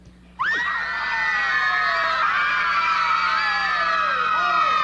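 A group of children suddenly bursts into a loud, sustained yell in a shouting contest, as in a 1949 Western. The shout is many-voiced and shrill, holding steady at full volume for several seconds.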